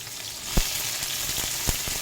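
Onions and chili sizzle and fry steadily in a hot pan for a tuna and egg stir fry, a loud continuous crackle broken by a couple of sharper spits and stirring bumps, with no talking.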